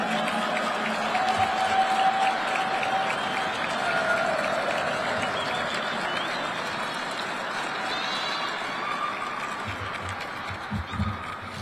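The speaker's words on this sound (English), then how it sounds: "Can all of the committee members please stand for a well-deserved round of applause?" A large audience at a 412th Test Wing annual awards ceremony gives the planning committee a long, sustained round of applause, steady clapping filling the room throughout with faint cheering and murmurs.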